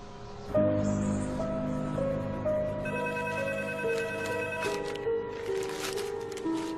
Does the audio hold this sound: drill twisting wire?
no